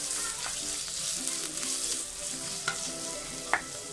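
Onion, green chili, garlic and ginger sauté in a pan with a steady close sizzle, broken by a few sharp clicks of a spatula scraping the pan, and no voices.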